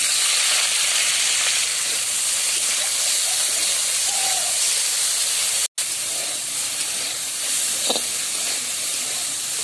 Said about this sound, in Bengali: কপিগুলো ভাজা হয়ে গেছে, তুলে নেব।